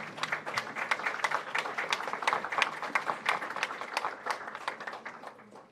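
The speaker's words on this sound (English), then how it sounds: "I ask the members of the audience to give a round of applause to both teams." Audience applause for both teams at a debate competition, moderately dense clapping with distinct individual claps, steady for several seconds and then thinning out toward the end.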